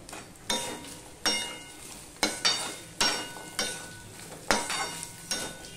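Pointed gourd pieces sizzle in a frying pan while a spatula stirs them in regular scraping strokes about once a second, each stroke raising a brief hiss over a steady low frying sound.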